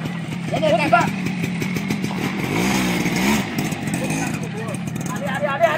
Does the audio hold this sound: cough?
no